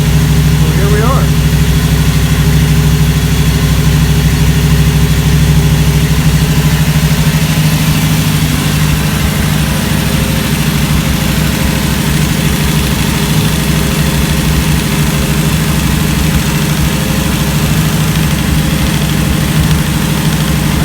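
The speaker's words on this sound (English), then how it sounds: "I got it on the fast idle cam right now because it's cold" Cold Dearborn engine running on the fast idle cam, a steady, fairly loud idle with a low rumble and slight vibration throughout, a voice talking faintly underneath.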